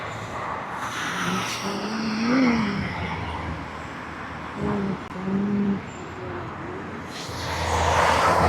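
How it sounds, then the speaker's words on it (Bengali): A police car drives past on a street at night in Saudi Arabia, its engine noise swelling and fading against steady background traffic, then rising again at the end. "আল্লাহ আরে পুলিশের গাড়ি"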